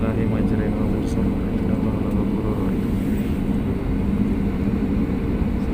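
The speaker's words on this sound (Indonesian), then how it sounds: "kita pesawat sudah melaju" Sriwijaya Air airliner accelerating down the runway on its takeoff roll, a loud, steady engine roar and rumbling cabin noise filling the whole stretch.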